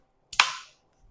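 A Defense Innovations DI.68 gas pistol launcher with a short barrel fires once, a sharp close crack with a brief hissing decay, followed by a faint handling noise.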